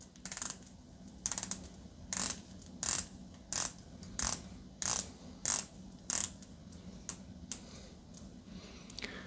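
The 60-click unidirectional dive-style bezel on a LACO Kiel Sport chronograph watch is turned by hand. About a dozen crisp, close ratcheting clicks come in quick bursts at a steady pace, with no talking.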